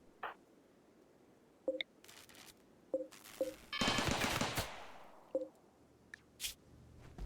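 Turrets firing in the RimWorld game, a few short sharp shots spaced apart followed by a louder sustained burst of fire lasting about a second, fairly quiet overall with no talk.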